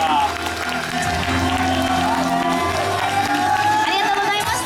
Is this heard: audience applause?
yes